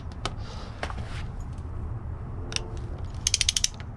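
Ratchet wrench clicking while loosening bolts on the engine cover of a 2020 Yamaha R1 fitted with GB Racing covers, with scattered close mechanical clicks and a quick burst of five or six sharp ratchet clicks near the end.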